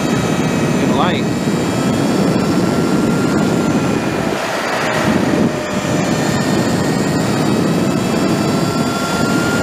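Steady loud whine and wind rush from a Sur Ron Chi 72V electric motorcycle ridden at speed, a continuous near roar filling the whole span with a brief dip midway.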